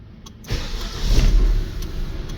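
A stock car with about 82,000 km on it starts up with a short crank, then its engine catches and revs, swelling and easing as it pulls away, loud and close.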